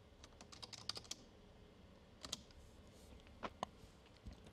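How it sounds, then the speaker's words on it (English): Quiet clicking of a computer keyboard as a preset name is typed into a Soundcraft Ui series mixer, irregular bursts of keystrokes with short pauses between. "We can type in our name,"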